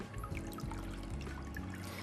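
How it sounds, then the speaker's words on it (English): Rinse water from washed sushi rice is tipped out of a container, a soft, close trickle and pour with faint splashes that runs steadily for a couple of seconds. "We'll tip this one off, all the water completely."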